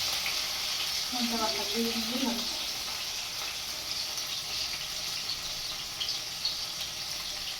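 Freshwater snails frying in a pan give a steady, fairly loud sizzle that runs throughout, with a faint voice-like murmur briefly near the start.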